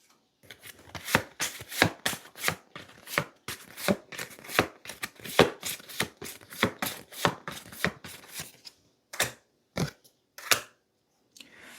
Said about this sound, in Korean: 마지막으로 색상 카드를 한번 뽑아볼 건데 전체적인 에너지 색상을 뽑아보도록 할게요